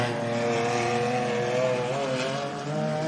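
Car 42, a race car with a 3.5 litre twin turbo engine running on a dirt track, roaring loudly and steadily with a rising, strained engine note close by.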